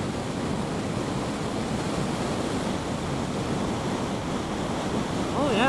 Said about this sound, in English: The only thing I hear right now is the wind rushing by.